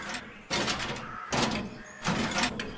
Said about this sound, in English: Hey, look at this. A door. And a secret passage.